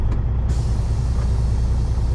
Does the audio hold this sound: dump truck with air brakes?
yes